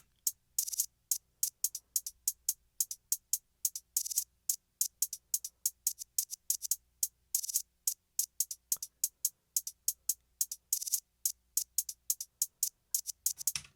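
Crisp, bright hi-hat hits in a steady New York drill beat pattern, with quick rolls and reversed hi-hat swells between the ticks, over a faint low bass hum and no voices.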